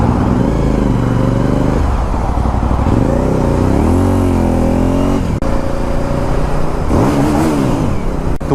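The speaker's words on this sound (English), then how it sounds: "A motorcycle." A motorcycle engine drones loud and close on a commute, its pitch sliding up and down as the rider works the throttle, with a steady rush of wind noise throughout and no talking.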